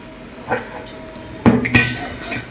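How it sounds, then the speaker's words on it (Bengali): A kadai set down on the stove with sharp metallic knocks and clinks of pots and utensils, a few close, distinct clatters spread across a short moment of kitchen work. "কড়া বসিয়ে দিয়েছি"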